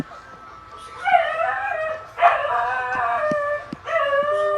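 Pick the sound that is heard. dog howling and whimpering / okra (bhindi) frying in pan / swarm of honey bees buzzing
dog howling and whimpering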